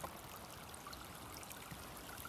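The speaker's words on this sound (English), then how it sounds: "You go here, it's running water." Running water of a stream flooding over a hiking trail, a steady broadband rush and gurgle close by, continuous and unbroken with no voices.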